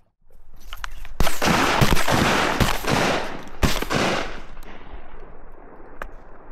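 Gunshots fired at ducks during a duck hunt: several loud, sharp shotgun blasts in quick succession, each with a long echoing roll, followed by a fading tail outdoors.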